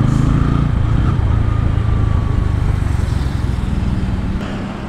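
A 2024 Bajaj Pulsar N160 motorcycle engine runs on its last fuel during a mileage test. The rumbling idle is loud and close, lugs unevenly, then weakens toward the end as it sputters out.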